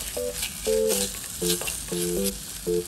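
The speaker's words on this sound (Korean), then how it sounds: "고춧가루 1스푼, 마늘 반스푼, 한 1분 정도 볶아줄게요." Chili powder and garlic stir-frying in a pan with kimchi, a steady sizzle over which tonal beeps sound in short repeated pairs, close and fairly loud.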